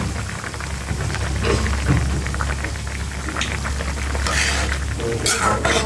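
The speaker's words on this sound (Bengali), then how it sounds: "মরিচ আর রসুন ভালোভাবে ভেজে নিব।" Green chillies and garlic frying in a pan make a dense, continuous sizzle over a low steady hum, loud and close, with a few brief scrapes of stirring.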